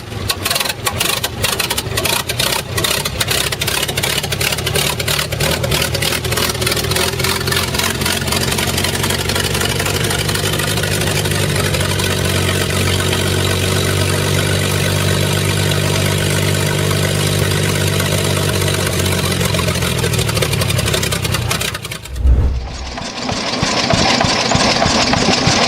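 Cummins diesel engine in a heavy aircraft tow tractor idles loudly with a steady, clattering drone for about twenty seconds, then the sound cuts sharply and shifts to a different, quieter running tone at the end.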